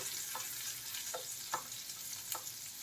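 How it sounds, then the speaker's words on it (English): Finely chopped onion frying in butter and oil, a soft steady sizzle with a few distinct stirring scrapes spaced out, fairly quiet and without speech. "I have dipped the finely chopped onion in the mix of butter and oil. So we'll cook it for a minute or so."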